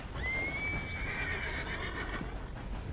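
A horse in Red Dead Redemption 2 lets out a loud, close whinny that rises and wavers for over a second, followed by snorting and hoof clatter fading under game ambience.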